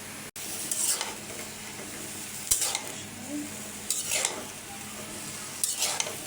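Pumpkin stems fry with prawns in a pan while being stirred, a steady sizzle with periodic bursts of scraping every second or so and a sharp utensil knock near the start.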